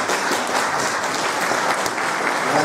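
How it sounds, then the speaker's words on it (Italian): Audience applause at a public talk in Campobasso, a steady dense wash of many hands clapping filling the whole moment at even loudness, with no voices over it. "Grazie per l'applauso"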